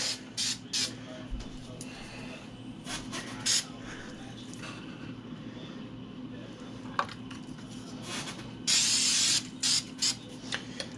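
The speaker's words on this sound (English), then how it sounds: "I don't try to soak down the ESC, I just kind of spray around it." Short hissing bursts of an aerosol protective oil sprayed around the electronics and speed controller of a Traxxas XRT RC truck, several brief spurts close up with a longer burst near the end, over faint background hum.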